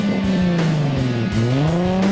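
A drifting car loses control and spins out after clipping a cone, its tires squealing loudly and continuously as the engine note rises and falls close by.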